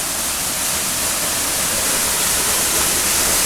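Nanny Falls in Portland, Jamaica, a cascade of three falls, pours as a loud, steady rush of water close by, a dense hiss that fills the whole moment with no voices.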